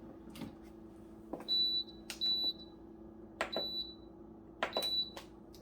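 An electric pressure cooker gives short, clear electronic beeps while being set, four tones spaced about a second apart, each with a soft click of a button press, in a quiet kitchen with a faint background hum.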